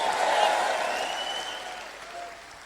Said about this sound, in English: Everybody clap. Come on, men, clap with me.